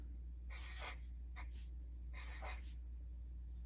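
Pen or pencil scratching numbers onto paper in short bursts of writing strokes, a few quick scribbles separated by brief pauses, close and fairly quiet with no talking.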